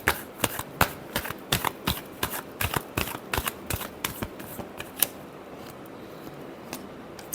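Tarot cards are riffled and shuffled by hand in a quick, steady run of crisp papery flutters and taps, close and clear with no talking, before the motion stops.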